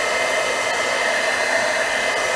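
A hair dryer blowing over a watercolor painting, a steady close broadband whoosh with a constant hum, no voices.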